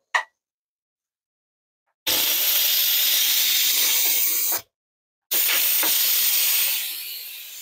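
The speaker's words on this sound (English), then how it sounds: "I'm going to release the pressure again using a spoon to release the pressure" Hot steam hisses out of an Instant Pot's pressure valve, pushed open with a spoon while making smothered hamburger steaks: a loud, steady blast, then a pause, then a second long burst that slowly fades.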